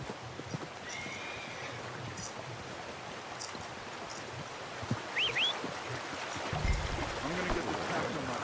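In Red Dead Redemption 2, a horse whinnies with a short rising neigh while hooves clip-clop and shuffle nearby, over quiet flowing water and occasional speech.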